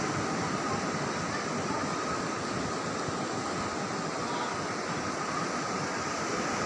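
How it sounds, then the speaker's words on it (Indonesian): Surf breaks continuously on the shore at Pelabuhan Ratu beach, a dense, steady roar of waves with no distinct pauses, loud and enveloping, and no voices. "wisata pantai Pelabuhan Ratu."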